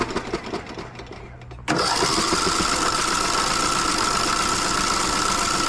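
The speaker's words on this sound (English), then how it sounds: "What happens when I try to crank it over?" A small engine with its fuel line pinched off cranks over continuously after a quieter start, a steady, fast mechanical churning that stays loud and even without catching.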